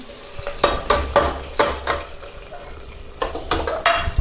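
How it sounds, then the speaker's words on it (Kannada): A sizzling tempering for rasam is tipped from a small pan into the pot, with a series of sharp metallic scrapes and clinks over a crackling hiss, in irregular bursts about every half second, close by and with no talk. "ಈಗ ಒಗ್ಗರಣೆ ರೆಡಿಯಾಗಿದೆ, ಇದನ್ನು ಇದಕ್ಕೆ ಶಿಫ್ಟ್ ಮಾಡ್ಕೊಬಿಡ್ತೀನಿ."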